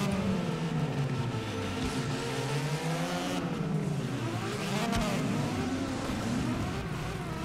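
Drift car engine in CarX Drift Racing Online, revving and wavering in pitch as the car slides, a continuous loud growl with rising and falling tones and no talking.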